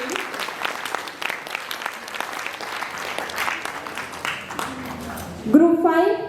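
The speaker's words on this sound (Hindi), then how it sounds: "जोरदार तालियों के साथ इनका स्वागत करें।" An audience applauds at the SIMPEX 2024 philatelic stamp exhibition award ceremony, with dense, steady clapping for about five seconds before a voice comes in over the fading applause.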